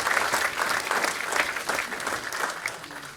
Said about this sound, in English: feel free to applaud if you like an answer